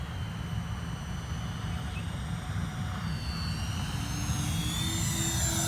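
An E-flite A-10 Thunderbolt II radio-control jet with twin 64mm electric ducted fans flies slowly overhead, giving a continuous airy whine and rushing roar at steady loudness, with slight shifts in pitch as it passes.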